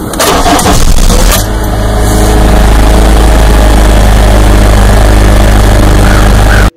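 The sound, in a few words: car engine noisy at start after long stop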